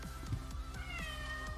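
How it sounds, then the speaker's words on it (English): A house cat meows several times in quick succession, close and fairly loud, with background noise from a Steam Deck running Forza Horizon 4. "apparently I have a cat saying hello"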